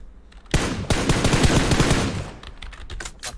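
Rapid automatic gunfire from a DPS weapon in a video game, a dense close burst of shots rattling continuously for about two seconds before trailing into scattered clicks.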